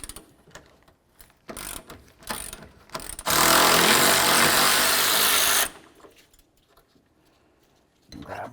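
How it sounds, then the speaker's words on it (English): A ratchet loosens the radiator mounting bolts on a Toyota Matrix with quick bursts of clicking, then a long steady power-tool whir for a couple of seconds, followed by more short ratcheting clicks, close and loud. "Now we're going to take off our mounting bolts that hold the radiator to the body of the vehicle."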